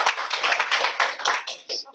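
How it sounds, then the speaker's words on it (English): A crowd claps for about two seconds during a talk on applying storytelling to client interactions, a dense steady patter that thins out near the end. "So, again, round of applause."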